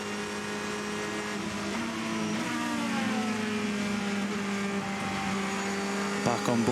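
Onboard the number 51 Ferrari race car at the 2014 24 Hours of Le Mans, the engine drones in a sustained, close tone that climbs and shifts in pitch through gear changes, with a faint sharp clatter near the end.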